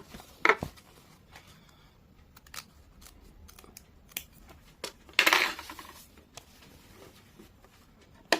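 Tailoring scissors cut through fabric while a semi-salwar is being made: a few sharp, close snips are spread through a quiet stretch, with one longer crunching cut near the middle and no talking.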